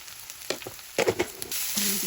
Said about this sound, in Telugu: ఆనియన్ అయితే బాగా వేగింది ఇంకా బాగా వేగాలి